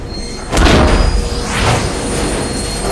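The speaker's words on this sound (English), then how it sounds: "There's a train coming behind you." A train thunders through a tunnel in the video game Mirror's Edge, a loud, deep, broadband rumble that swells and stays heavy throughout, with no speech.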